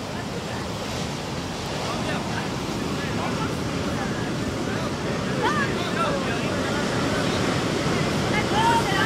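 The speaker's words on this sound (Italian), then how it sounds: "Però guarda le onde là, guardate le onde là" Ocean waves roll in at Ko Lanta, Thailand, during the 2004 tsunami: a loud, steady broadband surf roar with wind buffeting the microphone, and faint voices mixed in beneath it.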